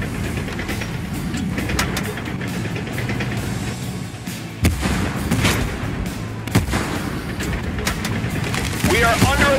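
Tank gunfire in the video game Tank Force booms in a few heavy, sharp blasts over a constant rumbling engine-like drone of battle, with a voice speaking partway through.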